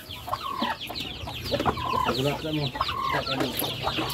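Turkeys gobbling, a male and two females, busy and overlapping, close by on a farm with a low background rumble.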